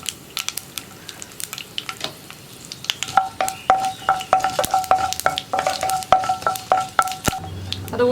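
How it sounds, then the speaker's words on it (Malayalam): Mustard seeds popping in hot coconut oil, a dense crackle of sharp pops over a steady sizzle, growing busier partway through, with a few clinks of a utensil against the pan and no talking. "ഇപ്പോൾ നമ്മുടെ കടുക് പൊട്ടിക്കൊണ്ടിരിക്കുന്നുണ്ട്."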